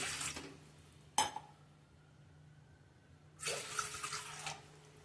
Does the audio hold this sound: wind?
no